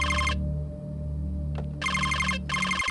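Phone ringing in a video game, a bright electronic ringtone sounding in repeated bursts with short silent gaps between them, loud and close, with no talking.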